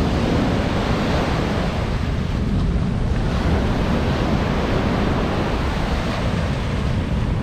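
Storm-driven sea waves surge onto a beach littered with drifting debris, a loud continuous roar of surf mixed with heavy wind buffeting the microphone throughout.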